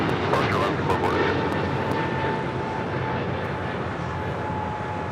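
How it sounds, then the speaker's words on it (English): An Alaska Airlines A321neo departs LAX, a steady engine roar with a thin whine running through it, along with brief voices and radio chatter. "That was Alaska Airlines Flight 440 heading to Cancun in an A321neo."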